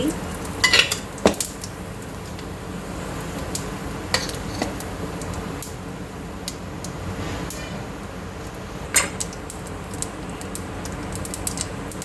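Cumin seeds in oil in a pan for a drumstick-leaf poriyal, heard mostly as clinks and scrapes of a spoon against the pan, scattered sharp knocks over a faint, low frying background, nearby.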